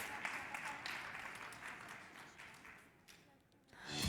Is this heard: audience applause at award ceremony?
yes